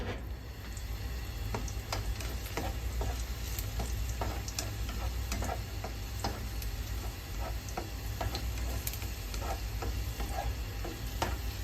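Chili paste stir-fried with pork and long beans in a hot pan gives a steady, close sizzle with a dense patter of spatula scrapes and clicks running throughout, with no talking.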